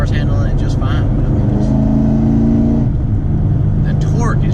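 A cammed LS V8 in a 2009 Pontiac G8 pulls hard from about 50 to 55 mph, heard from inside the cabin. The loud engine drones with a rising growl during acceleration, and some voice comes through under the engine noise.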